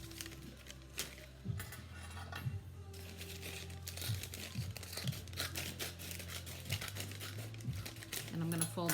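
Scissors cutting along the folded seam of brown paper lunch bags, with soft snips and crinkling paper, quiet and close, and a voice talking over the handling sounds.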